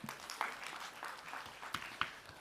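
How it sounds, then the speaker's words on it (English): Quiz final audience clapping for a contestant, a faint, fairly sparse round of applause with scattered individual claps heard from a distance. "Can I have another round of applause for him, please?"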